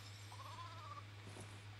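A sheep in a Lego video game bleats once in a short wavering call, faint over a steady low hum.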